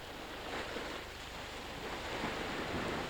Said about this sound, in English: The edges of the water curled over onto the land in white waves.